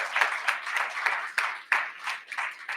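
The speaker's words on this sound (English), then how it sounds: "they deserve a round of applause as well." Applause from a closing ceremony audience comes in a dense burst of clapping with rhythmic peaks, fairly close and steady, with no voices over it.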